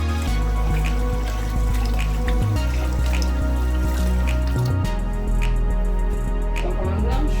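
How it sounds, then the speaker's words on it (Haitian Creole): Corn kernels being washed in a container of water, with steady close sloshing, dripping and trickling running throughout and brief louder splashes of water being stirred and poured. "ok, je vais laver Mayi."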